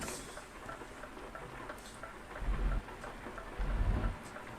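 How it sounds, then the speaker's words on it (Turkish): Rain in the trucking game Euro Truck Simulator 2 patters steadily on the truck cab, a soft continuous hiss with two low rumbling swells like distant thunder, no voices. "Şansımıza videoya girdik, yağmur başladı."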